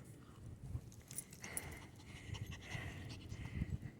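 A puppy pants rhythmically on an outdoor walk, quick close breaths repeating under light rustling and background noise, with no talking.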